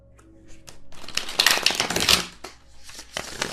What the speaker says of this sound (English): Do another shuffle real quick.